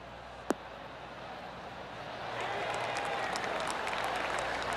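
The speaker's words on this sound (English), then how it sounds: "That deserves a golf clap." Soft spattering applause from a golf gallery in PGA TOUR 2K23 swells in after a single sharp tap and holds as a steady, distant patter of clapping.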